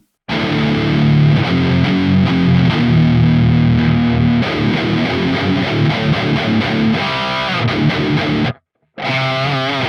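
Heavily distorted electric guitar through the Neural DSP Archetype Gojira preset E plays a loud, dense rhythm riff with chugging palm-muted notes, cuts out abruptly near the end, then comes back briefly.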